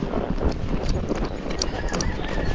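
Tennessee Walking Horse cantering down a hill on a trail, a rapid irregular clatter of hooves on the ground up close, steady and continuous over rustling outdoor noise.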